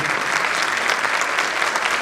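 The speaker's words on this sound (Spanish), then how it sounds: "Le damos la bienvenida con un fuerte aplauso" A lecture audience gives a speaker a warm welcome with steady, dense applause, close and even throughout, with no voices over it.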